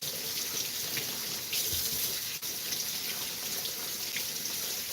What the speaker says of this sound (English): And always wash your potatoes beforehand.